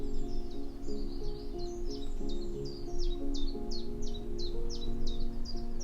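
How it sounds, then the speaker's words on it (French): A bird sings outdoors in nature, repeating quick bright chirps in a steady rhythm over a constant low hum of background noise. "Écoutez autour de vous les sons harmonieux de la nature, le chant des oiseaux, le bruissement des feuilles sous un vent léger"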